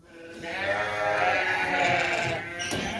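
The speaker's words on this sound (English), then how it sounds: "So all the sheep got scared of the curtain, and they all ran around the back of the barn" Sheep bleat inside a barn where replacement ewe lambs are gathered, giving a loud, drawn-out chorus of overlapping bleats close by that carries for several seconds, with no talking.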